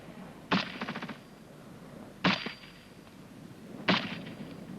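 Rifle and machine gun fire during military section training, heard as three sharp outdoor reports, each ringing briefly, one followed by a short rapid burst of shots.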